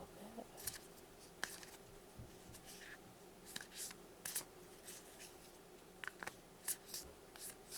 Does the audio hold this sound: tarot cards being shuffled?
yes